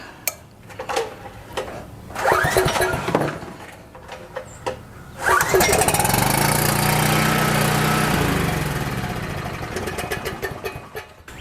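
Coleman Powermate 6560 generator being started with the choke on: clanking and tapping handling noises, then the engine catches and runs loud with a steady rumble that gradually eases, close by and with no voices.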